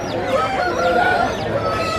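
Chickens at a Telugu country-fowl market in Anakapalli district, with fowl calls and crow-like cries rising over a busy, steady crowd murmur, close and fairly loud throughout.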